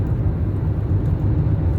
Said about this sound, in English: I'm driving home